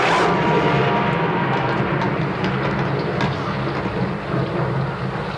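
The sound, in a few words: rumble of an earth tremor shaking the room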